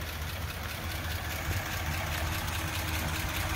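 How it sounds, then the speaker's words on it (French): A 1949 Ford four-door sedan with a V8 flathead engine idles steadily, a close, continuous low rumble with an even mechanical pulse and no talking. "je voulais vous faire entendre le moteur qui est en marche actuellement"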